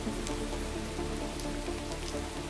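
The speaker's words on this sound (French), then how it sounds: "il pleut abondamment" Heavy rain pours in Abitibi in February, a steady, dense hiss of drops striking surfaces that holds at an even loudness throughout, with no voices.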